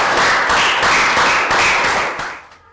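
A small classroom group of Year 3 children gives a short round of applause, loud, dense clapping lasting a couple of seconds before fading out.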